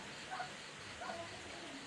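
Steady rain falls outside on a cold day, a continuous soft hiss that stays even throughout, with faint murmured voices briefly audible over it.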